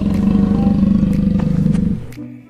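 A long, low growling tiger roar from a toy, loud and close, with a pulsing rasp that trails off at the end.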